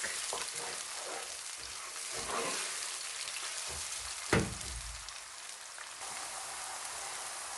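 Onions fry in a pan for a lamb keema and pea curry, a steady soft sizzle and crackle with occasional stirring scrapes and one brief louder clatter, heard alone without talk.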